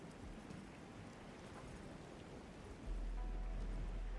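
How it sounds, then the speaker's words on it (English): Heavy rain in the video game Arknights: Endfield hisses in a dense, continuous wash, with a low rumbling layer that swells louder partway through. "It's raining harder. I can't hear anything except for the rain."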